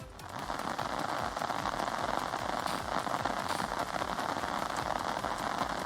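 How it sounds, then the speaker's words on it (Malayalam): Heavy rain falls in strong wind in Kasaragod district, Kerala, a dense, steady hiss and patter drumming on surfaces without pause, fairly close and unbroken by any voices. "ശക്തമായ കാറ്റും അതിതീവ്രമായ മഴയും കാസർഗോഡ് ജില്ലയിലെ പലയിടങ്ങളിലും പെയ്തുകൊണ്ടിരിക്കുകയാണ്"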